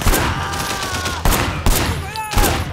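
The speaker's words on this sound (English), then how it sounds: "Shooting at the guys over there." Gunfire in the video game Sleeping Dogs, loud close shots and bursts landing in a rough rhythm of several blasts with ringing tails, amid other game noise.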